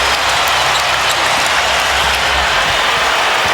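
Arena crowd at the 2001 NBA All-Star Game applauding and cheering in a steady, loud, dense wash of claps and roar that fills the whole moment without letup.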